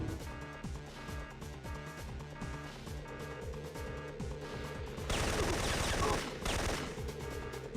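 Rapid, rhythmic automatic gunfire in the Syphon Filter video game, steady bursts of shots continuing throughout, swelling into a denser, louder volley in the latter part.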